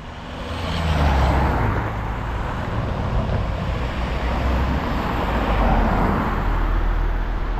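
Busy road traffic at the Rondo Matecznego roundabout in Kraków, with cars, trucks, buses and trams passing in a constant heavy rumble that swells and eases, fairly close, with no talk.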